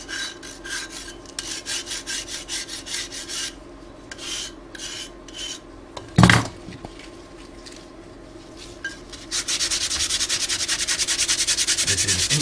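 A dry plaster foot cast, shaped for an insole, is sanded and rasped along its medial flange, making steady rhythmic scraping strokes close by, with one sharp knock midway and a faster, denser rasping toward the end.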